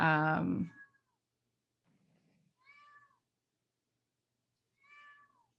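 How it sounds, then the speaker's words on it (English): A cat gives two short, soft meows a couple of seconds apart after a brief burst of nearby talking. "Your kitty. do you hear her?"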